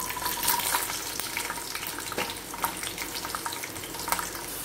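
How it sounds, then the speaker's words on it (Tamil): Garlic sautéing in hot oil in a kadai, a steady soft hiss and crackle with faint scattered pops and a light scrape or two, close and continuous, no voices. "நம்ம இதில் பூண்டு வதக்க போகிறோம்."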